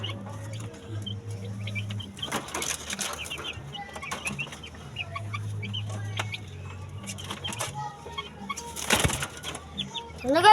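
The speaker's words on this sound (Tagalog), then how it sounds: "Gusto natin pakainin ng mani ng ating kalapatihan." Pigeons flapping their wings while being fed peanuts, with bursts of close wing beats, a couple of loud flurries of takeoff, and soft cooing and rustling in between.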